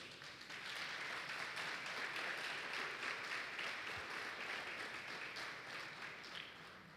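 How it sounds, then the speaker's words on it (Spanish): A church congregation applauds steadily for several seconds as a dense, faint wash of hand claps from a room full of people. "Denle un aplauso al Señor."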